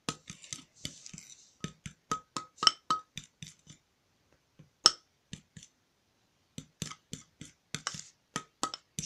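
Homemade cornstarch slime tinted with acrylic paint is stirred in a container, giving a series of sharp clicking, clinking taps in irregular bursts, close up with a short pause midway.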